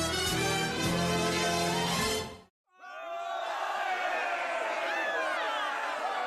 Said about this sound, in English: as you approach, you hear the roar of a crowd